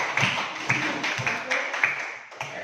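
A class of students claps for a group of classmates, a short burst of uneven, fairly close hand claps with scattered sharp slaps, the sound fading slightly toward the end.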